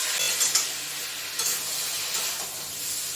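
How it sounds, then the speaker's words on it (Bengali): Ginger and green chilies tossed into a frying pan for a fish curry, a close, constant sizzle with faint stirring scrapes and no talk. "এবারে আদা কাঁচা লঙ্কা দিলাম"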